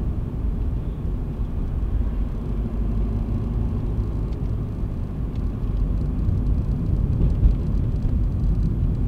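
A car engine pulls under extra throttle while climbing a hill, a steady low rumble that swells slightly toward the end, heard from inside the cabin with no talk.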